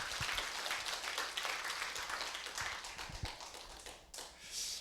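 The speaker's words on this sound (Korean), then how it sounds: "함께 박수를 해주시면 고맙겠습니다" An audience at a humanities forum applauds in a brisk, uneven patter of many hands. The clapping is moderately close and fades near the end, then swells again briefly.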